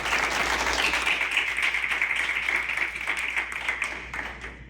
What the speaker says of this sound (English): a round of applause for Mark Foster's partner, Nicolas Garcia.